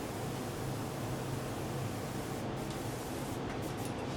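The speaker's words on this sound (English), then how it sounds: "So I'm just going to put the cup on the airbrush." An airbrush sprays paint at about 25 psi onto a C6 Corvette body panel in a workshop, a steady, soft hiss of air and atomised paint running unbroken throughout.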